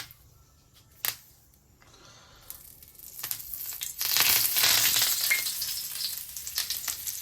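Marinated pomfret fish laid on a hot tawa, a sharp tap at the start, then a sizzle that swells and stays loud and bright for the last several seconds, close up, no voices.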